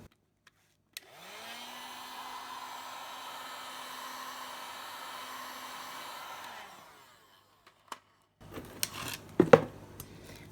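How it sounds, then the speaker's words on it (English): A heat gun blows steadily for about six seconds while warming a hose pipe for cutting, a smooth even whoosh with a low hum, followed by brief handling clatter and knocks. "So I've got the heat gun, which I'm going to just be heating the hose pipe up so I can cut it."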